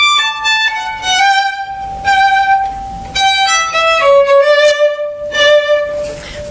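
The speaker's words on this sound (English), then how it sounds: "if it was treated as a regular grace note, it would sound like this" A single melodic instrument plays a short phrase with quick ornamental grace notes leading into held tones, clear and close.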